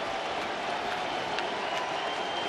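Baseball stadium crowd roaring steadily in anticipation of the final out, a dense, continuous wash of cheering and scattered clapping with no break across the moment.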